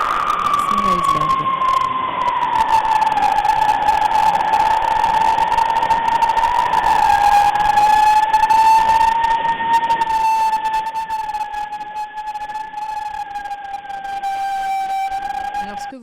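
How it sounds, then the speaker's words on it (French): Underwater sound from icebergs, sped up to be audible: a sustained, wavering tonal whine with gliding overtones over a constant noisy hiss, steady and fairly loud throughout, with no voices. "vous avez un bruit émis par des icebergs"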